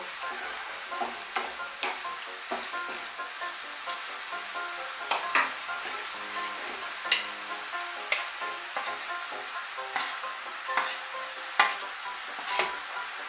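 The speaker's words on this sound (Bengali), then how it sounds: "দিয়ে পোস্ত বাটাটা এখন আমি ভালো করে মিশিয়ে নেব" A spoon stirs poppy seed paste into cooked spinach and potatoes in a hot pan, sending out a steady sizzle with regular scraping strokes about once a second, close and alone.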